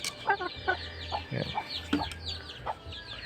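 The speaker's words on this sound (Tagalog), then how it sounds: "Ito yung babaeng manok na Rhode Island chicken natin" Rhode Island hen clucking in a farmyard, a series of short, fairly close clucks spread across a few seconds over a low background hum.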